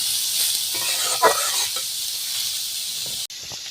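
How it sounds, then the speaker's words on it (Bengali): Vegetables fry in a pan for Kolkata-style vegetable chops, with a dense, even hiss and one brief stirring scrape, cutting off abruptly near the end. "ভালো করে ভেজে নেব"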